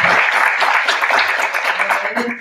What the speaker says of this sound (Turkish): kocaman alkışlar sevgili Hacer Hanım